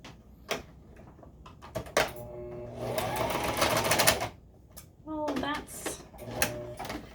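A home sewing machine stitches darts in folded fabric, running in short whirring bursts with a longer steady run in the middle, close and fairly quiet, broken by clicks and handling sounds.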